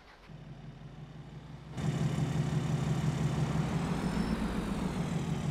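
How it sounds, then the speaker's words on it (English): Truck engine in Farming Simulator 22, a rig of about 700 horsepower, idling with a low steady rumble that jumps louder after a couple of seconds and then holds an even drone. "This is a 700 and some odd horse engine that we got."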